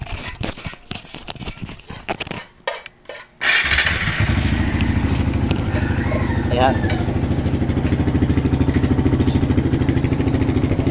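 A motorcycle fitted with a bullet pipe and silencer is kicked over and starts after a few seconds of talk, then settles into a steady, loud, close idle that continues to the end.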